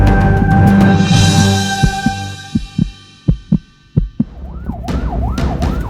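Inside an ambulance, a wailing siren rises and falls near the end, after a run of sharp rhythmic thumps like a heartbeat over a low steady drone.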